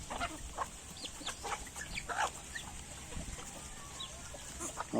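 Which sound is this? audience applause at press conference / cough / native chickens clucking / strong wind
native chickens clucking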